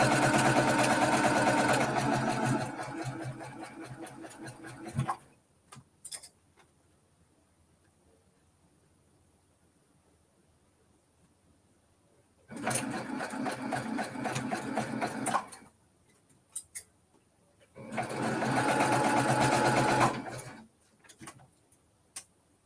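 A sewing machine stitches wool quilt block pieces together in three bursts of rapid, steady mechanical chattering, close and fairly loud, separated by quiet pauses with faint handling clicks.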